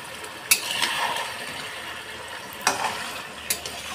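Chicken pieces fried in a pan, crackling sizzle with a few sharp scraping stirs of a spatula at irregular intervals, close and moderately loud.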